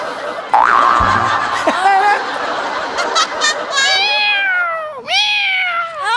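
A man imitates a cat with a string of drawn-out, rising and falling meows, loud and close, while laughter and chuckling break in around them.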